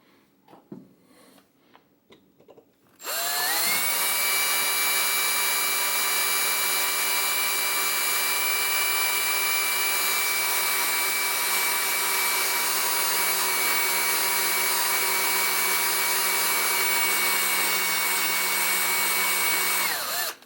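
A titanium-coated high-speed steel bit bores into a Pfaff 230 sewing machine part, lubricated with a little oil; after a few quiet seconds, a loud, steady drilling whine runs unbroken for about seventeen seconds with no talk.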